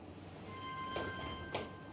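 A telephone rings faintly in a room during a tutoring lesson, a steady electronic tone with two brief pulses, no one speaking over it.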